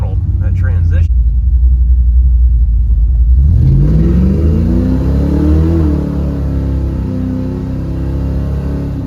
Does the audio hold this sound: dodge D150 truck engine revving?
yes